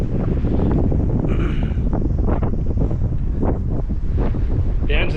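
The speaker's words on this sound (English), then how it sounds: "It's a bit windy here today." Strong wind buffets the microphone in a loud, constant rumbling roar that fills the whole clip, with faint fluttering gusts on top.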